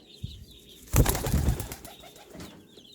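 Racing pigeons fly in a loft, a burst of wing flaps at close range that fades out, with faint bird calls around it.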